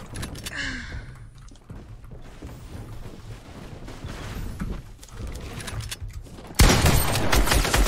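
Fortnite gunfire around a headshot in a one-on-one against a bot: scattered shots over game noise, ending in a loud, sustained burst of fire near the end.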